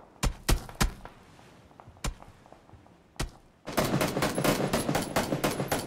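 Rapid gunfire from a competitive shooter match: several sharp, separate shots come first, then a dense, sustained burst of automatic fire that runs loud to the end.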